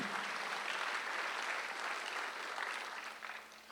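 A church congregation at Sunday worship claps together, a soft, distant wash of many hands that holds steady and then fades slightly near the end.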